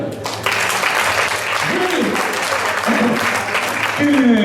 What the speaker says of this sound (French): rien que ça on peut l'applaudir à Gégé.